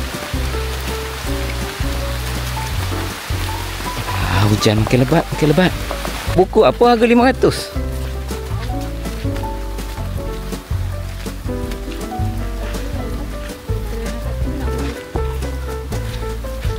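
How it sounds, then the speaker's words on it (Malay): Steady heavy rain hisses continuously on Kepayang Hill during a hike, with a person speaking over it partway through. "Hujan makin lebat, makin lebat."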